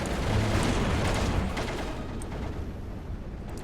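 Artillery firing in the World War II strategy game Steel Division II, a heavy booming blast that rolls out into a long rumbling decay, fairly loud and alone.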